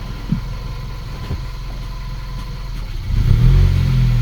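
A VW Polo 1.2 TSI with engine trouble idles with a low steady hum, then the revs rise sharply near the end as the clutch is dipped, a loud close-up engine surge.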